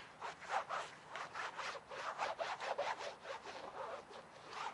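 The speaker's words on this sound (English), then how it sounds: "So the way we're going to dry these off, just going to use a cheap microfiber towel." A cheap microfiber towel is rubbed over an all-weather rubber car floor liner to dry it, making a quick series of rhythmic swishing strokes, close and fairly quiet.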